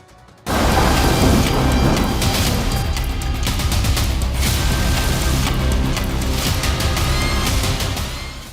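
Heavy rain pours down in Karnataka. The loud, continuous downpour starts abruptly after a brief quiet moment and keeps a full, roaring hiss with a low rumbling undertone, easing slightly at the very end.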